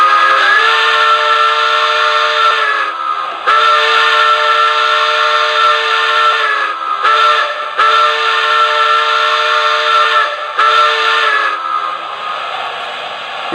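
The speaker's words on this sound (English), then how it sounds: "Here's the whistle" Steam whistle from an American Flyer/Lionel toy train sound boxcar, loud and close, blown in several long sustained blasts with short gaps between them.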